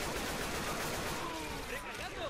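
Gunfire in Left 4 Dead on a Halloween haunted forest map, dense continuous shooting mixed with game noise and overlapping chatter from players.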